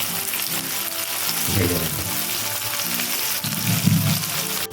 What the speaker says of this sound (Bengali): এখন আমি এই তেলের মধ্যে দিয়ে দেবো মাছটা ভেজে নেবো